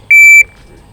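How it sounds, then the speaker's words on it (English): A single loud electronic go-signal beep, a steady tone lasting roughly a third of a second, sounds alone against a quiet background and then cuts off cleanly. "How long do you think that beep is?"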